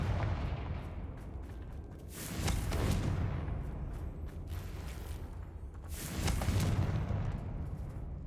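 A Confringo fire-blast spell is cast in a video game, giving two loud, booming bursts about four seconds apart over a steady rumbling game background, with no voices.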